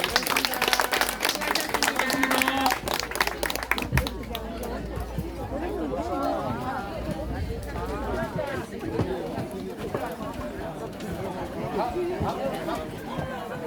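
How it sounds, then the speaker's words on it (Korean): Loud applause from a crowd closing an international friendship association training event in Gumi fills the first few seconds, then fades into lively chatter and talking voices. "박수로서 오늘 모든 순서 마치겠습니다"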